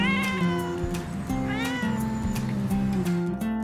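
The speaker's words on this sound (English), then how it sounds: "he's probably meowing." A cat meows repeatedly and insistently, a string of close, loud, drawn-out cries with rising and falling pitch, some edging toward a yowl, running almost without pause.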